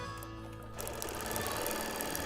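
A sewing machine runs steadily after a short quiet start, its rapid mechanical stitching hum close and continuous, with the machine vibrating as it works.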